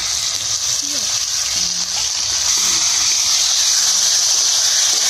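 Chopped tomato, turmeric, salt and chili paste sizzle steadily in a hot pan for a rohu fish curry, a constant close hiss of frying with no talking over it.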